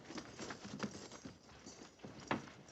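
A cavalry detail's horses shuffle and stamp as riders dismount, producing scattered soft hoof clops and thuds with irregular rhythm, fairly faint and close, with no talking.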